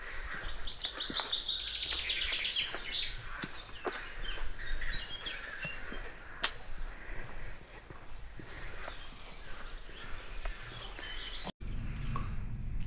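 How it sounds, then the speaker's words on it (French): Outdoor ambience at a campsite near a Maya temple, filled with birds singing and chirping and frogs calling, steady and moderately close, with scattered calls layered over a constant background hum. "On entend les chants des oiseaux,"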